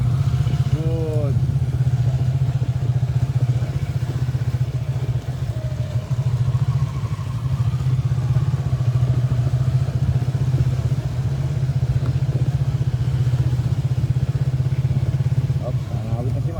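A big bike motorcycle engine hums steadily at a low idle-to-cruise drone throughout a riding training session, loud and close, while an instructor speaks over it.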